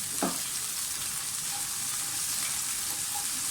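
Garlic and ginger paste fries for keema in a hot pan, giving a loud, steady, continuous sizzle that runs unbroken throughout with no talking.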